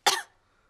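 Cartoon character giving a single short, sharp cough, close and clear, quickly fading to silence.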